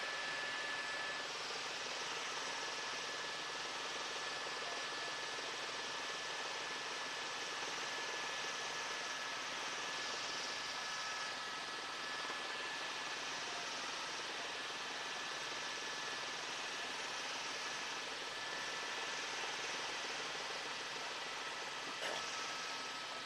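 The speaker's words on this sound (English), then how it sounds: "I believe there's 8 or 9 helicopters on the Palisades fire" Helicopters working the Palisades wildfire in Pacific Palisades, California, give a steady, unbroken broadband roar that holds at an even level for the whole stretch, with no voices.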